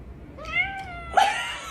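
A female cat lets out two meows in quick succession, the first a rising, drawn-out cry and the second a sharper, brighter call, close and clear against a quiet room.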